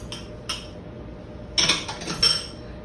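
An egg being beaten in a bowl for a crab croquette mixture, a few sharp clinks of utensil against dish, two at the start then a quicker cluster of taps a second later.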